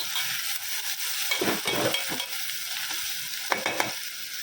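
Spices and ginger garlic paste frying in oil on a high flame, a loud continuous sizzle with scraping spoon strokes stirring the pan and a few sharper clicks near the end.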